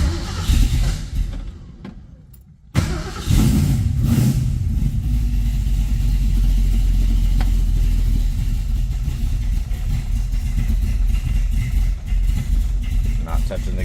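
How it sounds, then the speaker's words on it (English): A 1967 Ford Mustang, left sitting about twelve hours, cranks briefly and fires into a loud, rough cold idle that rumbles on steadily up close. "Okay, we're gonna do a cold start."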